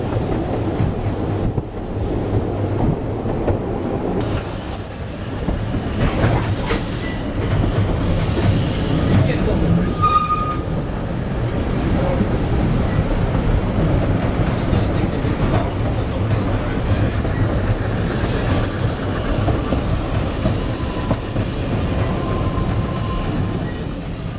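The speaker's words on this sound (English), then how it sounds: "The train hugs the cliffs as it climbs up the Aberglaswyn Pass" A Welsh Highland Railway train climbs the Aberglaswyn Pass along cliffs beside a river gorge, its steady rumbling rolling noise continuous and fairly close throughout, with a thin high whine over it and no voices.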